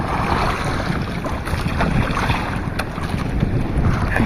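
Steady wind roars and buffets against the microphone, with a broad rushing noise and occasional gusts, as if out on open water.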